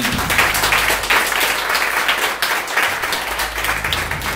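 Applause from a church gathering, thick and continuous for several seconds, loud and close with no voice standing out above it.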